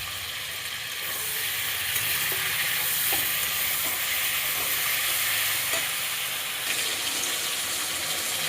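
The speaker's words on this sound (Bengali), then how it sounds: "আদা রসুন দিয়ে কিছুক্ষণ ভেজে নিলাম" Chicken pieces frying in a pan with ginger-garlic paste and chopped tomato give a steady, continuous sizzle with a few faint clinks of stirring, close and moderately loud, with no voices.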